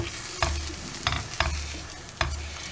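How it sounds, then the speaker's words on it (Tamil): Egg burji frying in a pan as a spatula stirs and chops it, a few sharp scraping strokes over a steady close sizzle, with no talking. "இதை நல்லா மிக்ஸ் பண்ணி விட்டோம்னா தான் அப்படியே தனித்தனியாக வரும்."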